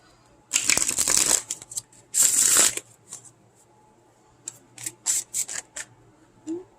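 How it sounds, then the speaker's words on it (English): Tarot cards being shuffled in two long riffling bursts near the start, followed by several shorter flicks and snaps of the deck, close and crisp. "Let's do a little shuffle here, guys."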